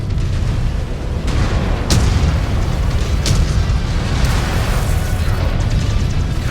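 Mech weapons firing in MechWarrior 5: Clans, a dense rumbling barrage with sharp cracks and booms punctuating it every second or so, loud and continuous with no talk.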